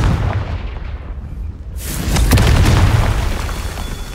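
A Confringo fire spell from the Hogwarts Legacy video game bursts into a deep, booming explosion about midway through, its low rumble swelling over a noisy game soundscape and then slowly fading.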